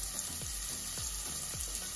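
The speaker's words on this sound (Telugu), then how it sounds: "ఆనియన్ కొద్దిగా బ్రౌన్ అయ్యేంత వరకు ఫ్రై చేసుకోవాలి." Onion frying in a pan for mint rice with bay leaf and shahi jeera, a steady close sizzle with a few soft stirring scrapes, no talking.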